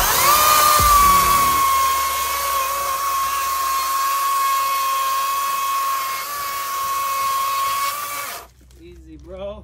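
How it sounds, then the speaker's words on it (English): A Cat 60-volt 16-inch brushless cordless chainsaw runs at a steady, loud, high-pitched whine for about eight seconds, then cuts off abruptly, and someone speaks briefly afterward. "That's your Cat 60 volt, 16 inch chainsaw right there."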